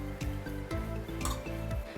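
Beef stirred with salt in a pan, a utensil scraping and knocking against the metal in a steady rhythm of about four strokes, close and fairly quiet under a soft sizzle.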